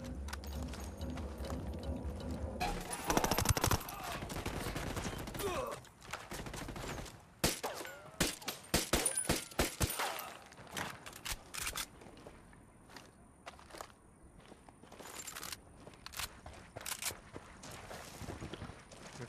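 Gunfire in the video game Ghost Recon Wildlands comes in sharp bursts and rapid volleys, loud and close at times, with quieter gaps between shots.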